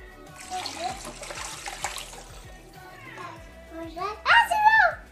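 Salt water is poured off cleaned blood clams, giving a splashing, gurgling pour that rises near the end, while a person talks over it.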